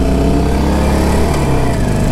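A stock 2021 Harley-Davidson Sportster 48 (1200) motorcycle engine runs steadily while riding, a continuous close, loud throbbing rumble with no speech.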